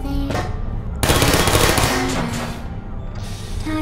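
Sentry turrets in Portal firing continuous rapid gunfire, a dense loud rattle that swells partway through and carries on without a break for the whole stretch, up close.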